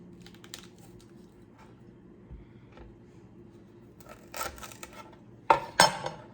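A big knife cuts the core out of a vegetable on a board, mostly soft faint taps at first, then a burst of crisp cutting and two sharp, louder chops near the end.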